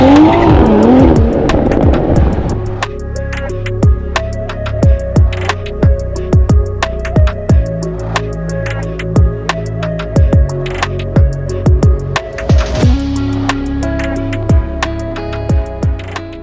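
Toyota Supra cars at a club meet in Bear Creek Park, Houston, one revving hard and loud at the start with squealing tires, followed by steady tonal sounds with a regular pulse.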